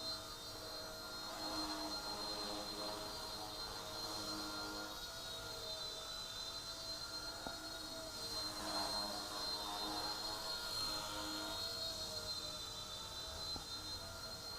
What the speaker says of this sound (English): if you can hear this motor, that's not a brushless motor